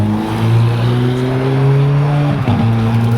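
A car engine drones loudly from inside the cabin on a race circuit as it accelerates, its pitch climbing steadily, then dipping briefly at a shift before rising again.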